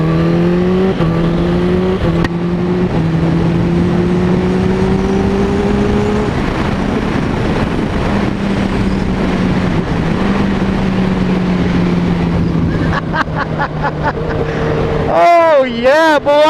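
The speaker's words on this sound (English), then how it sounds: "taste of what his exhaust sounds like as I went by him" A 2023 Kawasaki Ninja H2 motorcycle fitted with a Vandemon exhaust revs loudly with a rising and falling engine tone as it passes close by, ending in a sharp swooping howl, with a rider speaking over it.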